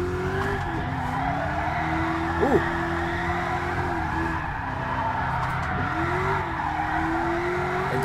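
A Camaro drifting in GT Sport drones with a steady engine hum as tires squeal in long, wavering screeches, with a quick exclamation from a voice in the middle.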